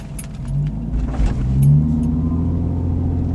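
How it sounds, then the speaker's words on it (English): Steady engine hum heard from inside a Lexus IS300 with a GReddy exhaust as it accelerates on a feeder road, the low drone rising slightly, with a few faint rattles. "I'm gonna go on the feeder so you can hear me kind of accelerate inside the cabin"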